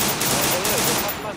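Rapid gunfire in Free Fire Clash Squad, a loud, sustained burst of shots filling the whole short moment.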